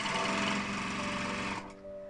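A sewing machine stitches a French seam on a fabric joey pouch, running as a steady close whirring hum that stops abruptly near the end.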